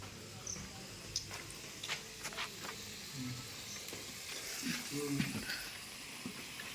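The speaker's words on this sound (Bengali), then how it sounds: "আলুটা ভেজে নিলাম।" Potatoes frying in a pan at an outdoor workplace cooking spot, a soft steady sizzle with scattered clinks of a ladle stirring, all faint and in the background.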